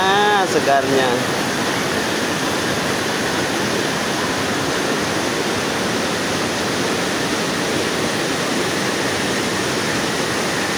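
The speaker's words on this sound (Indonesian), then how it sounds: "Ini air yang masuk di sela-sela bebatuan, airnya deras di bawah ini. Arusnya kencang." Fast water at Curug Tonjong waterfall rushes between rocks, a loud, steady broadband roar heard close by, with a brief clatter at the very start.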